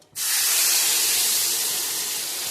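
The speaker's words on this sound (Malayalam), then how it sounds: "ഇനി ഇതിലേക്ക് നമുക്ക് വേവിച്ച് വെച്ച പരിപ്പ് ചേർത്ത് കൊടുക്കാം" Cooked lentils poured into sautéed masala in a hot pan set off a sudden loud, steady hiss that sizzles on evenly for a couple of seconds, close up and with no talk over it.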